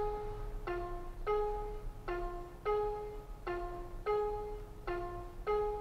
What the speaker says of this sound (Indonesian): ada banyak bunyi sen yang bisa Anda pilih sesuai dengan selera